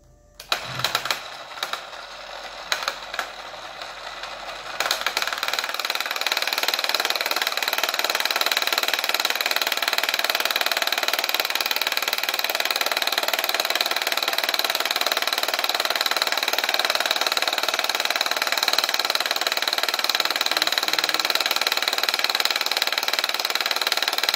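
A Biopulser machine switches on after a few seconds of quieter handling sounds, then runs as a loud, steady mechanical buzz and hum that holds constant to the end with no talking.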